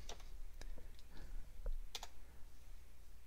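Keys clatter on a computer keyboard during Windows Server 2012 administration, a quick run of close, light clicks in an irregular rhythm with no voice over them.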